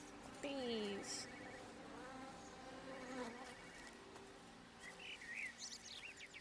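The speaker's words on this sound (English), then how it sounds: "Bees." Bees buzz in the game Everybody's Gone to the Rapture, a thin droning hum with wavering pitch near the start, mixed with distant bird chirps and soft ambient outdoor tones.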